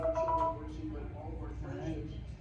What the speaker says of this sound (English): That's them jitterbug ringtones